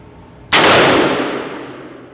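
A single loud AR-15 rifle shot at 20 yards cracks sharply against a steel target, ringing with a bright metallic clang that decays over about a second and a half, alone with no talk.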